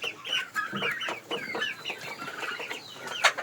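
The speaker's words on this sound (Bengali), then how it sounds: "টার্কি মুরগি কীভাবে পাতাকপি খাচ্ছে দেখুন" Turkeys eating cabbage leaves cluck and chatter in quick, overlapping bursts close by, with soft pecking and tearing sounds between calls.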